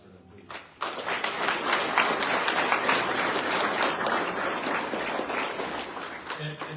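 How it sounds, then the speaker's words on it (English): Applause for the Board of County Commissioners at a fire department recruit graduation and badge pinning ceremony breaks out after a short voice, then holds as a loud, steady burst of clapping from a large crowd. "So a round of applause for them, please."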